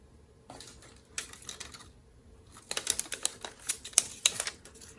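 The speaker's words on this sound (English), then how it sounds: "so I'm going to trim it" Paper being trimmed for a stamped Christmas card, a few quick crisp cutting strokes followed by a denser run of sharp clicking, snipping sounds, close and fairly quiet.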